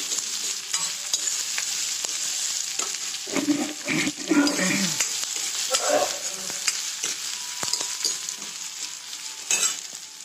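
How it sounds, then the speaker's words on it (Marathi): Crushed garlic roasts in a hot pan with a steady close sizzle, broken by bursts of scraping and stirring in the middle and scattered light clicks, no voices. "लसूण ठेचून घेतलाय लसूण. आता हे चांगलं भाजू देते."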